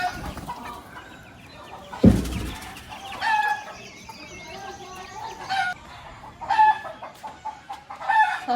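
Chickens cluck and squawk nearby as they are released into a new backyard coop, with bursts of clucking coming in irregular clusters, one sharp thump partway through, and quiet background voices.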